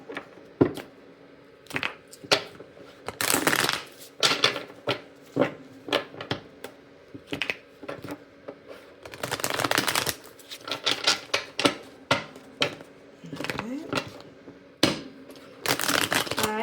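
A deck of tarot cards is shuffled on a table, with repeated riffling bursts and crisp card flicks close up, broken by brief pauses.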